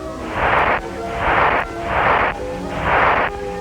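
Four loud whooshing blasts in a steady rhythm, each a roaring burst of noise lasting about half a second, like cartoon torpedoes launching and exploding.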